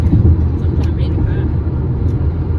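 Inside a car driven fast on a road trip, a loud, steady low engine and road rumble carries on while people talk over it.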